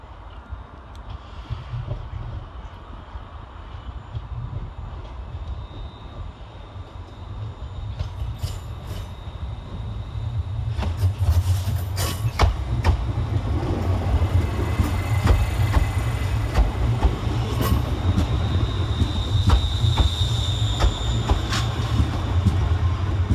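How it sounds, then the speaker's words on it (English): ScotRail class 380 unit 380-105 pulling into Glasgow Central at the end of a run from Largs; a low rumble builds over the first ten seconds, then grows louder with clanks and faint squeals as the train rolls in close. "Terminating with a ScotRail service nearside from Largs is 380-105."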